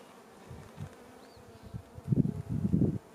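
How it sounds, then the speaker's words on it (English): Low honeybee buzzing hums close by inside a weak hive during an inspection, swelling louder in uneven bursts toward the end. "I see a bunch of bees downstairs"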